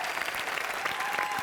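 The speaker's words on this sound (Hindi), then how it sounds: "तालियां।" A studio audience on the Entertainment Ki Raat show bursts into brief, dense applause that holds steady for just over a second.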